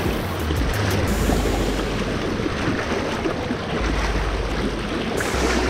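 Creek water rushes steadily around an angler's feet while wading for brown trout in Oatka Creek, a loud continuous churning wash with low wind-like rumble throughout.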